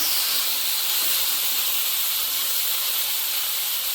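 Brinjal sautés in a pan, giving a loud, continuous, even hiss of frying throughout with no breaks or talking.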